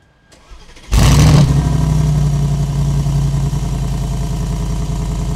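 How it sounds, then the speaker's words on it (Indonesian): A Mercedes-AMG G 63 Mansory SUV's V8 cranks and fires with a sudden loud burst, then settles into a steady, deep, rumbling idle close by. "Sekarang saya akan nyalakan mesinnya dulu."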